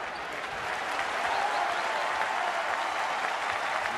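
Basketball arena crowd applauding and cheering at a college game, a dense continuous roar of clapping that swells slightly and holds steady.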